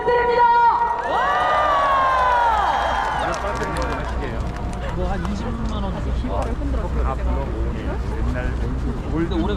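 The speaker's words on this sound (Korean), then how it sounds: "여러분 뜨거운 박수 부탁드립니다" A large outdoor crowd at a candlelight rally applauds and cheers, a sustained roar of clapping opened by a loud drawn-out shout.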